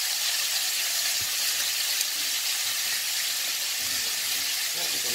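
Country ribs frying in hot oil, a steady loud sizzle with scattered pops and spits throughout, close up, with faint background speech.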